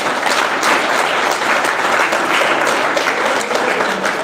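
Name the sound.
audience clapping for Jesus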